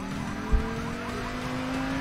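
Getaway car driving off in the heist shooter Payday 2, a steady engine hum with a brief low thump near the start, fairly close and without talk.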